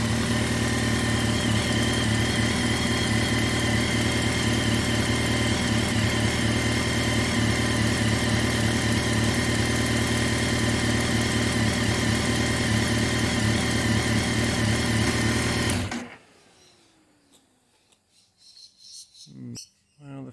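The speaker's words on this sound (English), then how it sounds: "I'm going to repeat the process of heat cycling this bike to see if the thermofan turns on and it doesn't sound dodgy" A Kawasaki ZX10R motorcycle engine idles steadily and loud for about sixteen seconds during heat cycling, a continuous drone that then cuts off, leaving quiet background with faint scattered knocks.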